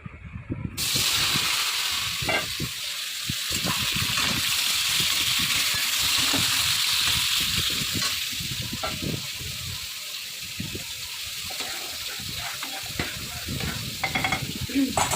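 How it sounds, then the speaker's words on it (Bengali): Pointed gourd pieces with potato, coated in salt and turmeric, fry in hot oil in a kadai with a loud, steady close sizzle, occasional stirring scrapes, and a voice speaking at times. "তো এখন আমি পটলগুলো ভাজার জন্য বসিয়ে দেবো।"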